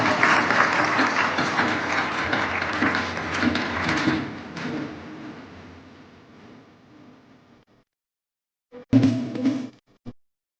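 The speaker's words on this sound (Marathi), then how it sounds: "सगळ्यांनी जोरदार टाळ्या वाजवून या विशेषांकाचं कौतुक करायचं आहे" An audience claps loudly at a civic felicitation and book-launch ceremony in Ratnagiri, the applause holding for about four seconds before fading out, followed after a pause by a brief second burst.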